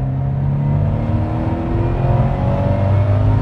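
A turbocharged Toyota GT86 on a first run after dyno tuning accelerates in a steady, loud, droning engine roar with a rising pitch, heard from inside the car, no talk.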